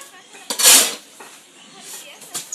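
A metal karai is lifted and handled among masons at work, giving a loud bright clang followed by lighter metallic clinks and scrapes close by.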